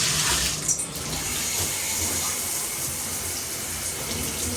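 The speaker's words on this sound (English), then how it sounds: "Speaking of shower, let's check the shower pressure." A stand-up shower in a hotel bathroom at a Comfort Inn in Orange, Virginia runs at full pressure, a loud, steady hiss of spraying water that continues unbroken throughout.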